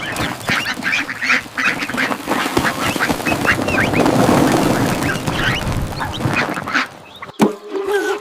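Cartoon ducks on a farm quacking repeatedly in a busy, close flurry of calls, with a short clatter near the end.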